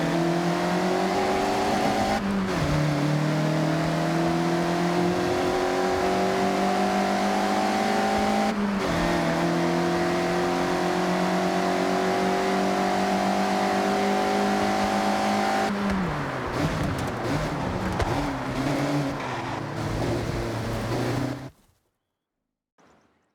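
Mazda MX-5 engine in Forza Horizon, a sustained high rev held through corners with brief dips at gear changes, a slide and pitch drop near the end before cutting to silence; no talk.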